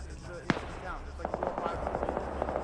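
Grenades go off in a shooter video game, a sharp blast followed by a flurry of smaller popping bursts under a noisy, busy mix, with voices audible.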